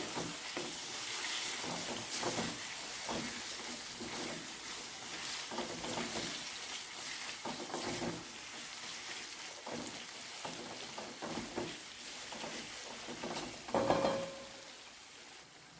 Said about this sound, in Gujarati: હવે આ મસાલા આપણે સાતળી લેશું આવી રીતે